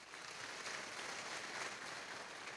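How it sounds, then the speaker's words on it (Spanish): A church congregation applauds during a sermon on the rapture, a soft, dense and even wash of many hands clapping that continues throughout, heard from a distance. "Denle un fuerte aplauso a nuestro Dios."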